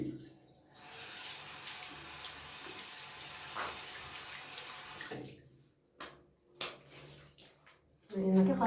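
A cloth diaper shaken in a sink of soapy washing water, a sustained sloshing splash that stops abruptly, followed by a few separate drips and sloshes and then a burst of water near the end.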